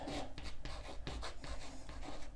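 Marker or chalk scratches across a board in quick, irregular strokes, with short squeaks and taps, close and fairly quiet, with no talking over it.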